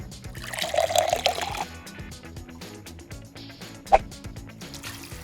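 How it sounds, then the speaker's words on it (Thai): Water poured into a homemade, non-electric fountain tower splashes and trickles for about a second and a half, then the flow settles into quieter gurgling with a brief splash near the end. "พอเราเทน้ำตรงทาวเวอร์สลงไปนะครับ ดูนะครับจะเป็นยังไงนะครับ"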